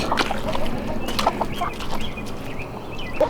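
Chickens cluck steadily in a farm stall, several birds close by with repeated short calls over a constant rustling background.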